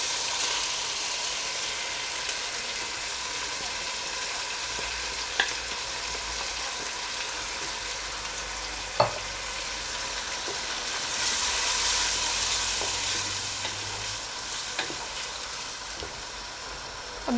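Dal cooks in masala with a steady, fairly soft sizzle and low rumble that swells slightly partway through. Now and then a utensil taps or scrapes the pan.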